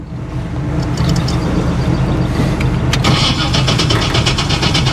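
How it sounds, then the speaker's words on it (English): A classic Chevrolet Camaro cranks and fires up, its engine settling into a loud, steady rumbling idle with a brief crackle of starter noise, close by and alone. "Yeah, no, I'm just gonna start this thing real quick."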